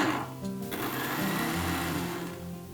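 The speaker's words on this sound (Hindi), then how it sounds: "हाई स्पीड पे नहीं करेंगे, जस्ट पल्स मोड पे ऑन ऑफ करना है।" A kitchen mixer grinder whirs steadily with cake premix in its jar, a continuous close motor drone that holds through the clip and dips slightly near the end, with no talking.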